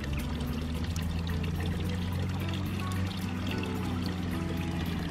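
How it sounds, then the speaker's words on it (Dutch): Water pours steadily and continuously while refilling a horse's water supply at a stable, a loud, close, unbroken gushing stream with a low rumble underneath, no voices present. "Ik ben water aan het bijvullen."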